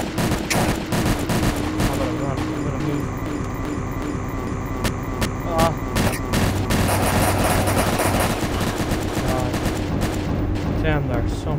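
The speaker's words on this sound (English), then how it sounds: "Oh, there's gunshots." Gunfire rattles nonstop in the video game Garry's Mod. Dense, overlapping shots and bursts sound like a loud, chaotic firefight.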